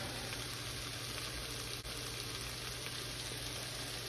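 Fried rice sizzles steadily in a hot pan, a dense continuous crackle and hiss that stays loud and even throughout, with no voices.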